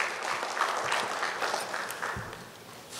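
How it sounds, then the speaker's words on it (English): Audience applause at a presentation in the hall of a Che Guevara commemoration event, a steady wash of clapping from a crowd lasting a few seconds without pause. "Give a round of applause for those two clips."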